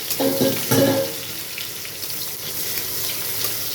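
Chopped garlic hits hot oil, with cumin and dried chillies already in the pan, for a bottle gourd dal. A couple of clinks open it, then a steady, close sizzling hiss carries on alone.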